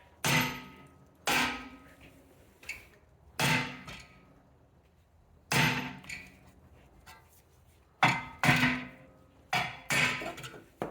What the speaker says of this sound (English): you may need to tap it with a hammer to be able to get that to come off